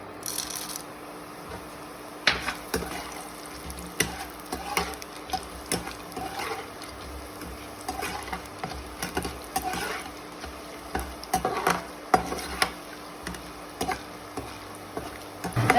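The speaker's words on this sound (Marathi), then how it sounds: "त्यानंतर आता आपण त्रिफळा तळून घेऊयात" Triphala, Sichuan pepper, frying in oil for Kolhapuri chutney, with a soft sizzle broken by intermittent stirring scrapes and clinks of a spoon against the pan, no talk.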